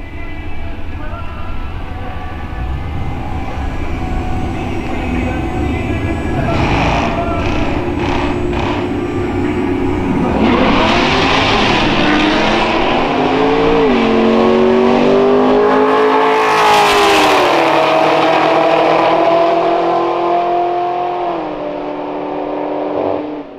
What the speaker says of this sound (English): Let's go see some really fast cars.